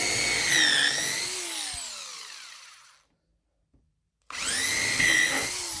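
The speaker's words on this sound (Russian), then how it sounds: "Для этого я сделаю отверстие сквозное" Power drill with a Forstner bit boring a through hole in a wooden board, a loud whining spin that slows and stops, a short silence, then the drill whirs up again at close range with no talk.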